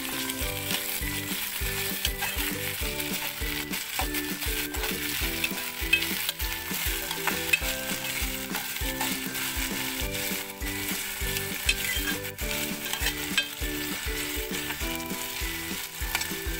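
Finely chopped tomato fries with roasted onion in a pan, a steady close sizzle over the whole stretch, broken by regular scraping and stirring strokes from a spoon.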